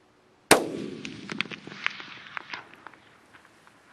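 A single sharp gunshot from a specialty handgun fired at about 490 yards during a hunt cracks loudly outdoors, followed by a long rolling echo and faint scattered rustles as it fades.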